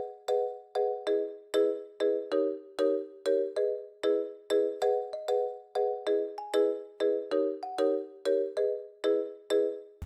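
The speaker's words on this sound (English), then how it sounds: "I went to SRX Orchestra and grabbed a different mallet with like a different timbre to it" Bright layered mallet tones from an SRX Orchestra sound bank tap out a bouncy, repeating Afropop pattern of short struck notes with quick decays, steady and evenly spaced, alone and up close.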